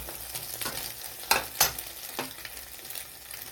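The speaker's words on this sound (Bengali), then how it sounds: "ডিমের এক পাশেই পেঁয়াজ দিয়ে দেবো। পেঁয়াজটা একটু লাল লাল হবে।" Chopped onions frying in a hot pan alongside eggs, a steady soft sizzle with a few sharper stirring scrapes and clacks, close and alone with no talking.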